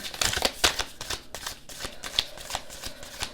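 Tarot cards are shuffled by hand up close, a quick series of crisp riffling and flicking bursts repeating irregularly, with no voice over them.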